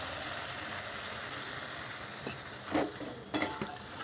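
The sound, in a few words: water poured into pan of fried potatoes and green chilli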